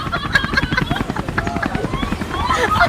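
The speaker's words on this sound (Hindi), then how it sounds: "ओ हेलीकॉप्टर, लेकिन कहाँ है?" A helicopter's rapid, rhythmic rotor chop fills the air indoors at moderate loudness, a continuous pulsing thrum with a voice speaking over it.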